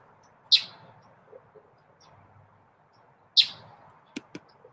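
Two sharp, high bird chirps spaced a few seconds apart, close and clear against quiet outdoor background, followed by a couple of faint ticks.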